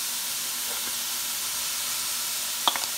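Garlic and red onions sizzle in a pan, a steady broad hiss of frying close by with a couple of brief clinks near the end and no talking.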